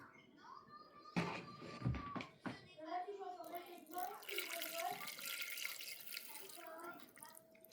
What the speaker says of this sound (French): On nous demande d'ajouter 700 g d'eau.